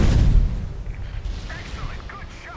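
Deep booming blast of a naval depth charge in Steel Ocean, a heavy low rumble at the start that fades over a couple of seconds, followed by faint game tones.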